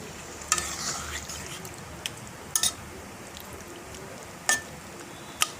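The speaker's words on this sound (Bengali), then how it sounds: "এবার একটু নেড়ে দেওয়া হবে" Rohu fish chorchori being stirred in a pan with a little water, faint simmering underneath a few sharp metallic scrapes and clinks of the spatula against the pan.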